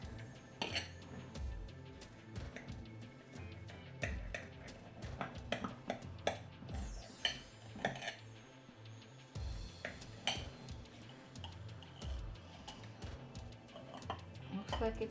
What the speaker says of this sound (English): let's slice it and let's hope for the best. Making sure to get through the bottom layer of apples.